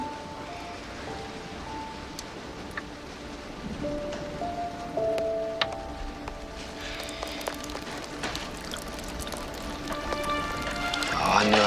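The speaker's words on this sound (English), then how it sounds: "It's raining outside." Steady rain falls outside a frontier house during a western storm, a soft constant hiss. Scattered clicks and knocks stand out above it, and the sound rises into a brighter, louder burst at the very end.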